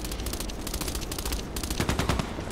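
Rapid automatic gunfire from a KelTec RFB carbine in the shooter game Contract Wars, loud dense bursts of shots running almost continuously with brief gaps, and no talking.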